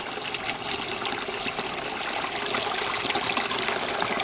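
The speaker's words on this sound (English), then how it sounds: "Walking in towards the stream again, and of course this waterfall is all the way down because the land is dropping." A waterfall and stream flow through a snowy woodland cottage garden, water dropping into a gravel pool in a steady, fairly faint gushing rush that continues evenly without voices.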